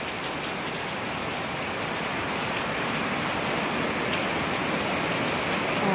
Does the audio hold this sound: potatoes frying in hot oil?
no